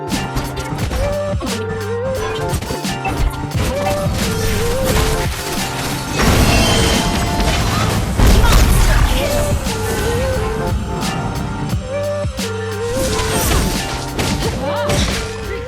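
A turret being destroyed in a Mobile Legends match, with dense game audio of repeated smashing crashes, thuds and whacks over background music, building to a heavier booming burst midway through.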